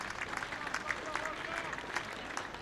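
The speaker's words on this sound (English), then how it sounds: "gets a round of applause" Crowd at an England Lions versus South Africa 50-over cricket match applauding a piece of fielding at mid-wicket, a scattered, moderately distant round of clapping.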